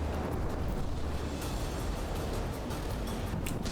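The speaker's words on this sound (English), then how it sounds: "my cram mortars are actually doing something in this. They're actually managing to hit some of them" Crammer mortars fire and strike battleships in a naval battle in the game From the Depths: a dense, continuous rumble of explosions with sharper bursts scattered on top, loud and unbroken throughout.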